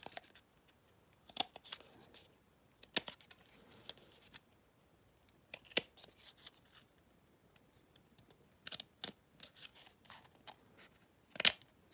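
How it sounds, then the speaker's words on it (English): Scissors snipping through cardboard while cutting out a shape for a toy cannon, in short separate bursts of crisp cuts spaced across the clip, close and fairly quiet with no talk. "Now you grab your scissors and you'll start cutting out your shape"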